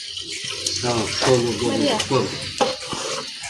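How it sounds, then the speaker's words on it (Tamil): Water is poured into a large pot of chicken biryani, a splashing, gurgling stream with some stirring and sizzle-like hiss, fairly close and loud. "கணக்காக தேவையான அளவுக்கு தண்ணி ஊற்றிக்கணும்."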